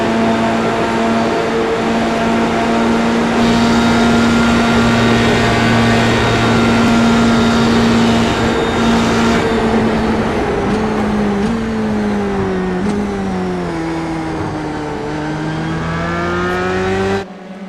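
Onboard race car engine in an F3A World Series racing video game at Daytona Road, revving loudly and continuously at high pitch, dipping and climbing again through gear changes as it goes for an overtake, with no talk over it.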